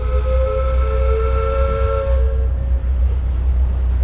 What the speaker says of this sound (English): that's what you heard hooting. Paddle steamer, proper paddle steamer.